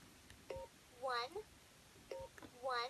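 Buttons on a Fisher-Price toy smartphone dial an emergency number, giving two short electronic dialing beeps about a second and a half apart, each followed by a bright, chirpy toy voice.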